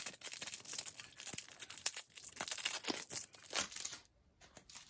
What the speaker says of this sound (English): let's finally get into opening these cards